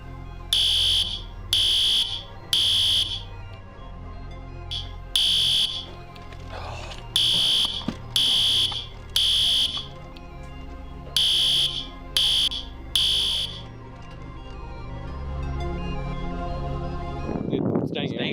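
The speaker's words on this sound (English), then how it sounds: "that's fire alarm, probably just the drill" A fire alarm, probably a drill, sounds in loud repeated bursts of about a second each with short gaps between them. Voices talk underneath, and a rumbling noise builds near the end.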